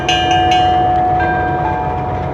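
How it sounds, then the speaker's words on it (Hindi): A handheld railway station bell at Dina Railway Station is rung by hand, with a few quick, loud strikes at the start before its metallic tone rings on and slowly fades. "रिंगिंग बेल है जी, ये पकड़ के हम खुद ही बजा लेते हैं हमेशा"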